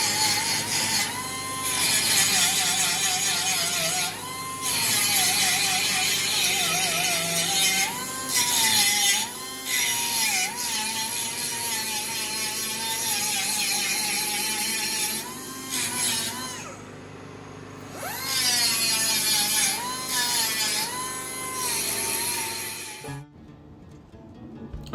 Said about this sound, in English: you just saw me do some grinding there